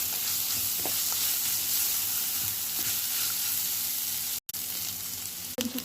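Onions and grated carrots fry in a pan with a steady, close sizzle, punctuated by a few light stirring clicks and one brief break near the end.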